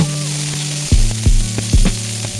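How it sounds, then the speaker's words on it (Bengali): Small eggplant pieces fry in mustard oil in a nonstick pan, giving a steady close sizzle with three louder bursts of crackling spatter partway through, and no voices. "তারপরে ছোট টুকরো করে কেটে রাখা বেগুনগুলোকে দিয়ে ভেজে নেব।"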